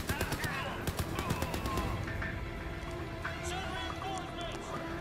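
A friendly turret in Crysis 3 Remastered fires rapid bursts of sharp, mechanical shots through the first two seconds, then drops away into steady game ambience with a voice faintly underneath.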